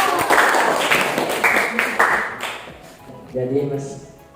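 Students in a classroom clap for a classmate in a brief burst of applause, while voices talk over and after the clapping.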